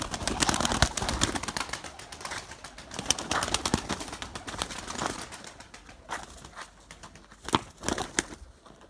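Erzurum white pigeons cooing and fluttering at feeding time, a busy close cluster of soft coos, wing flaps and scuffling that thins out toward the end, with no one speaking.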